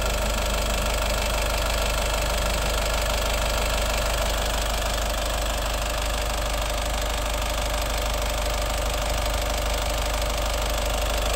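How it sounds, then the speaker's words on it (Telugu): A 2017 Honda City V diesel engine idles steadily for the whole stretch, a loud, even, knocking diesel clatter with a low rumble and no pauses or voices. "మీరు ఇంజన్ బీటింగ్ ఒకసారి అబ్జర్వ్ చేయండి."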